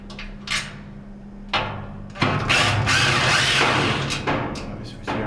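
Screws being backed out of the lid switch mount on a Kenmore washer that will not advance past spin: a few short clicking and ratcheting bursts from a hand tool, with a longer, denser stretch of turning and rattling in the middle, close and fairly loud.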